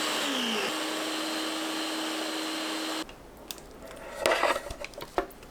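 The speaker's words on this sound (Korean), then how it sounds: "믹서에 감자, 애호박 넣고 갈아서 준비합니다." A blender grinds potato and zucchini, a steady loud whir with a sustained tone that stops abruptly, followed by scattered clinks and knocks of kitchenware.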